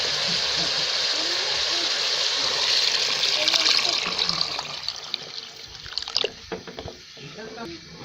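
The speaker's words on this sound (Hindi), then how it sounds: "फिर भून कर 1 जग पानी डाल लें।" A jug of water is poured into a pot of frying beef trotters, a gushing splash over sizzling that tapers into drips and light clatter.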